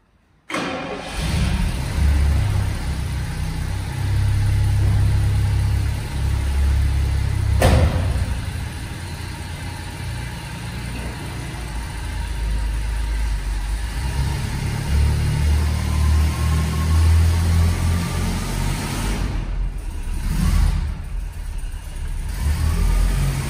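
A Jaguar XJS Coupé V12 starts up and pulls away from a mountain hotel, its engine a deep steady rumble close by that shifts in pitch as the car gets moving and keeps droning while driving.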